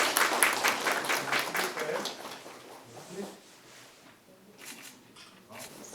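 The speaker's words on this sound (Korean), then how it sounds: "축하의 박수 드리겠습니다" Scattered clapping from the audience at an orchid exhibition award ceremony in Seosan, fairly strong at first and then thinning into a sparse, quieter patter, with voices mixed in.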